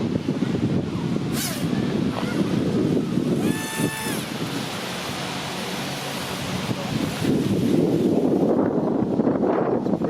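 Strong wind buffets the microphone in a continuous roaring rush, with a brief high whistle partway through.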